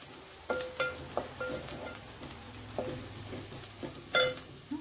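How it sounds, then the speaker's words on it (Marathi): Turmeric being sautéed into a chickpea curry base in a pan: a soft steady sizzle broken by repeated clinks and scrapes of a spoon stirring, close and fairly quiet. "हळद घालूया, जरा परतून घेऊया"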